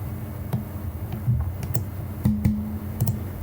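Keys pressed on a computer keyboard during motion graphics work, a series of light, close clicks at irregular intervals over a low background hum.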